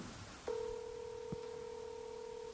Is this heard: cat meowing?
no